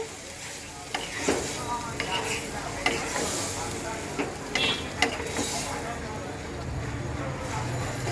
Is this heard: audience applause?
no